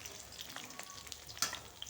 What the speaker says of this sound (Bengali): তো মাছগুলো দেখো ভাজা হয়ে গেছে